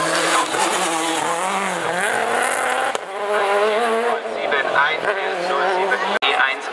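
Race car at the 2016 Wolsfeld hill climb (Bergrennen), a loud, high-revving engine climbing and dropping through gear changes nearby, under continuous commentary.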